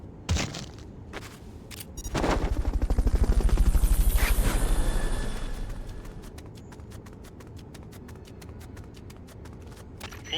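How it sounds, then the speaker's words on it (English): A Fulton recovery helicopter from the Metal Gear Solid: Peace Walker video game swells into a loud rotor and whoosh that peaks and fades, followed by a steady rapid mechanical ticking, with no talk. "Fulton recovery helicopter is complete."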